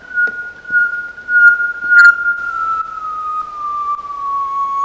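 Recorded nightingale song, captured in Kent, triggered from a keyboard: one sustained, steady pure whistle-like tone that slides slightly downward, with brief chirps and clicks over it, played alone and fairly loud.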